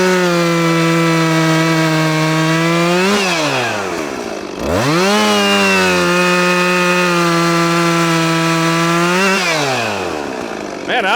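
A Husqvarna 564XP chainsaw fitted with a Sugihara bar cuts through wood, its engine screaming loud and close at full revs, dipping twice as the chain bogs into the cut before climbing back up.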